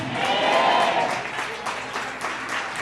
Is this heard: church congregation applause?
yes